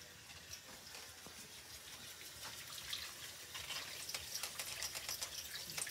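Running tap water splashes steadily into a kitchen strainer as it is rinsed out, a faint, close, continuous gushing that builds slightly toward the end, with no voices.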